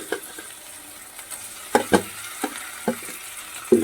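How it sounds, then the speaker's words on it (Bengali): Tomato puree from one large tomato goes into a hot pan with pumpkin, making a soft sizzle with several sharp splutters and stirring clicks, close and alone. "একটা বড় টমেটোকে পিউরি করে রেখেছিলাম সেটা দিয়ে দিচ্ছি"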